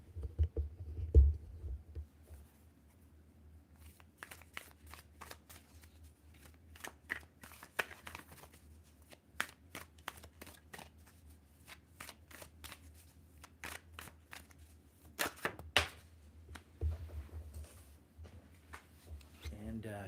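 A deck of tarot cards is shuffled by hand, with soft riffles, taps and slides repeating in quiet bursts over about twenty seconds, close to the microphone, with no talking.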